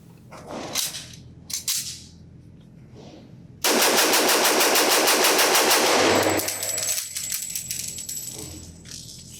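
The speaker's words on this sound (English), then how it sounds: "So I'm just going to do a quick mag dump, do some point shooting" Sig Sauer P227 Tactical .45 ACP pistol emptied in a rapid mag dump at an outdoor range: a few isolated sounds, then a loud, continuous burst of fast shots lasting about two and a half seconds, fading into ringing echo, with no talk.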